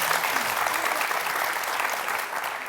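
A studio audience breaks into steady, dense applause on a TV talk show, the clapping loud and continuous for a few seconds with a faint murmur of the crowd beneath.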